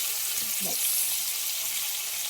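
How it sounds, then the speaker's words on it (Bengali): Ginger frying in a pan with tomatoes and green chilies, a steady, soft, continuous sizzle with a faint stir or clink partway through and no talking. "আদাটা একটু চিরবির করে উঠেছে"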